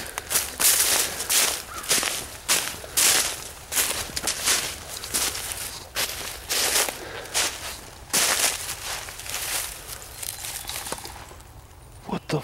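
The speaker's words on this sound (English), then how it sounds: "Footsteps are getting closer as shit" Footsteps crunching through forest ground, a steady series of sharp rustling steps, fairly close and loud, continuing for several seconds before thinning out near the end.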